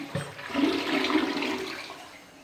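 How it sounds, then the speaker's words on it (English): A residential toilet flushes in a rental unit undergoing inspection, with a short rushing swirl of water that builds quickly, holds steadily, then drains away, close and clear with no talk. "The toilet has to be able to flush correctly."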